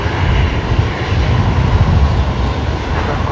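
An airliner's jet engines roar at Brisbane Airport, a loud, steady, broadband rumble that stays heavy in the low end throughout with no voices.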